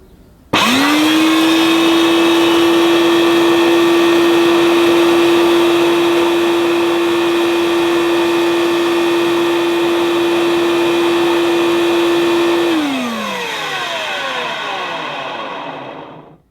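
A Hoover Portapower S1015 vacuum cleaner is switched on outdoors: its motor starts abruptly, holds a loud, close, steady whine for about twelve seconds, then winds down as it is switched off, with no talking.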